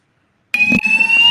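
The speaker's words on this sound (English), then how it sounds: "I've had to put my microphone on mute because the fire alarm's going off here" A fire alarm bursts on after a moment of silence, a loud, piercing electronic tone that holds steady and close for the rest of the short span.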